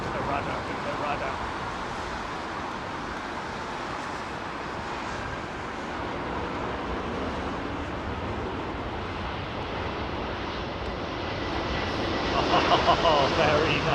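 An Airbus A380 arrives on runway 27R at London Heathrow, a broad, distant engine rumble with wind noise that swells slightly toward the end, under faint talk.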